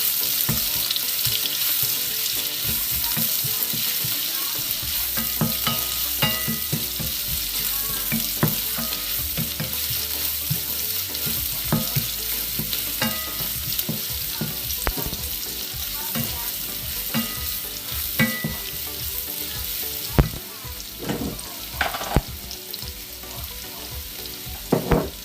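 Crushed ginger sizzling and frying in a pan while being stirred, with continuous crackling fry noise and repeated scraping stir strokes throughout, alone without speech.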